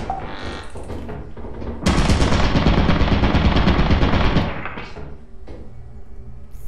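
A sentry turret in the video game Lethal Company fires a sustained, loud machine-gun burst lasting a couple of seconds, with quieter clanks and game noise before and after.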